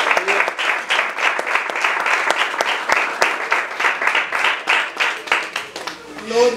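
A church congregation claps for the Lord during a Spanish-language sermon by pastor Manuel Carrasco, a loud, dense burst of many hands with distinct sharp claps poking through, sustained for several seconds before tapering.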